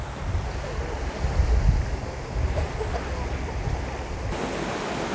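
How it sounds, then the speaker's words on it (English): A waterfall in Regent's Park, London, rushing as a steady broad hiss with some wind buffeting the microphone, heard from a short distance without talk. "the view of this wonderful, wonderful waterfall"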